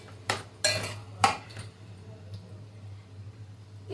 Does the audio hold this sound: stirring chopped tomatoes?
yes